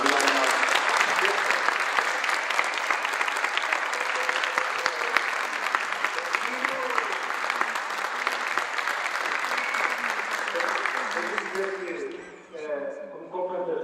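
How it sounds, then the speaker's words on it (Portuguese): Audience applause after a talk in Porto, a sustained dense wash of clapping from a large crowd, steady and loud for about twelve seconds before thinning out as voices begin to speak. "Uma salva de palmas"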